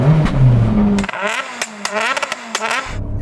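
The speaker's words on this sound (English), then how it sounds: "Go on, Timmy, rev up your car." A Red Bull rallycross car engine is revved hard in a series of sharp, snarling bursts against a soft limiter, close and loud, with crackles between the rapid throttle blips.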